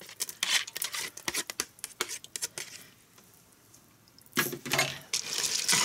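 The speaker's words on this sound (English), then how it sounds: "now I'm going to pour the 2 pounds of great northern beans in here." Two pounds of dried great northern beans poured into a pot of water, a dense rattling cascade of hard clicks and patters that pauses briefly, then resumes with a louder rushing spill, close and alone.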